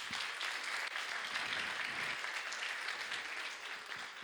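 Church congregation applauding together at a Spanish-language service, a dense, steady wash of many hands clapping that fills the whole stretch and eases off slightly near the end.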